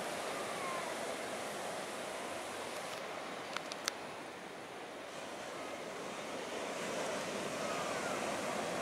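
Ocean surf rolling onto Wijaya Beach in Dalawella, Sri Lanka, at low tide near a barrier reef: a steady, broad wash of waves with faint wind, continuous and moderately distant, with a couple of tiny clicks midway.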